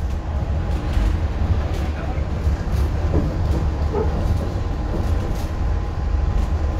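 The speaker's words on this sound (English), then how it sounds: "Riding the monorail." Interior rumble of the Epcot monorail at Walt Disney World in motion, a steady low hum and rattle with faint clicks, continuous throughout, with quiet voices in the background.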